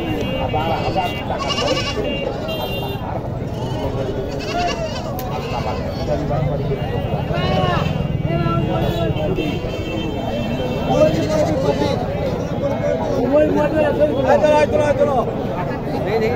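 Goats bleat repeatedly amid a busy crowd at a goat and sheep market in Naogaon, Bangladesh, with people talking and bargaining loudly over the animal calls.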